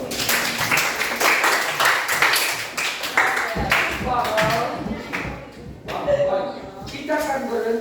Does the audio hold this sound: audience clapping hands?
yes